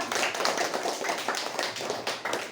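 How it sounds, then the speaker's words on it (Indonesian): Children in a classroom clap for a classmate after a good answer, a steady patter of many small hands close by with no talk over it. "Tepuk tangan untuk Aab"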